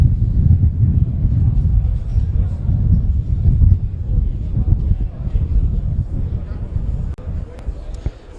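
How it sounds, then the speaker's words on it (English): Strong wind rumbles and buffets the microphone steadily throughout on a cold evening at a football match in South Melbourne, a deep, constant roar with a few faint thuds. "Very cold, windy evening here in South Melbourne."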